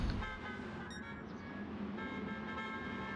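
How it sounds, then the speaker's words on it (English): Truck horns honk at a GTO Champions series truck race, a sustained tonal blare set against loud engine roar and crowd or track noise, with a brief higher toot near the first second. "Afternoon traffic, the horns are honking"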